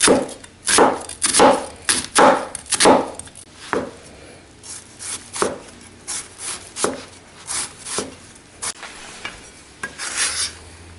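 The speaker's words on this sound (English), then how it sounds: "Chop up your onion first" A knife chopping through onion on a board, a run of sharp, irregular cuts, some quick bursts, others spaced apart, close up with no talk.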